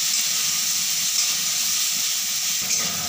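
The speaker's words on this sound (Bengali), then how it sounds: "পেঁয়াজটা লাল লাল করে ভেজে নেব।" Chopped large onion sizzling in hot oil with black cumin (kalo jeere), a steady close hiss of frying carrying on evenly throughout with no talk.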